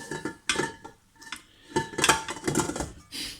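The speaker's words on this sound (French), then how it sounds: "Et maintenant, nous allons monter les blancs" Metal whisk rapidly beating egg whites in a bowl for waffle batter, making irregular clinking and scraping bursts with short pauses, close and fairly loud.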